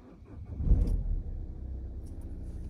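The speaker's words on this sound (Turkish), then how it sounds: "bu motorun sesini eminim ki her yerden birçok arabacı tanır yani" A Citroen C4 1.6 HDi 92 hp diesel engine rumbles low and steady nearby, with a brief swell in its throaty sound before settling into a quiet idle.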